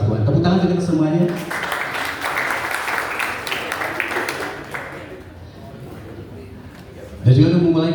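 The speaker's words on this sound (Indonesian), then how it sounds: "Tepuk tangan untuk semuanya." A burst of audience applause at a halal bihalal gathering of Yayasan At-Taqwa, swelling for a few seconds and then fading, with a speaker's voice just before and right after.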